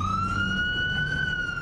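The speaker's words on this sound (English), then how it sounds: "The scream of a siren," A police siren wails steadily and loud, its tone sliding slightly upward as it holds, with a low road rumble beneath.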